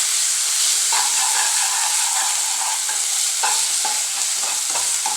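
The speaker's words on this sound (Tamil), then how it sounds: "நம்ம தக்காளி, மிளகாத்தூள், மஞ்சத்தூள் எல்லாம் போட்டு வதக்கி" Tomatoes, chili powder and turmeric being sautéed and stirred in a pan for a Tamil non-veg dish, with a steady close sizzle and hiss broken by scraping stir strokes throughout.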